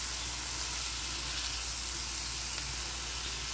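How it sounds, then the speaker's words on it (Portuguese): Lentils sauté in a pan with garlic and onion, giving a steady, close sizzle and frying hiss that holds evenly throughout with no talking. "Agora eu vou deixar ela dar uma refogadinha aqui só, tá?"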